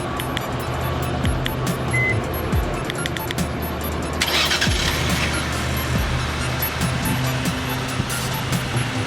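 A 2020 Lincoln Aviator idles after a remote start, giving a steady low engine rumble outdoors under broadband ambient noise, with a brief burst of louder noise midway.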